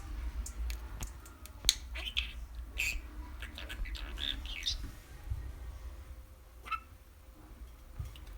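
A green budgie parakeet named Kiwi chirps in short bright bursts and clicks scattered over a few seconds, close by against a low steady background hum, with no talking.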